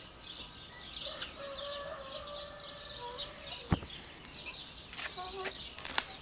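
Rare Japanese silkie chickens, a breed with five toes, clucking and murmuring in a farm setting, several drawn-out calls and short clucks over a noisy background, with a sharp knock midway.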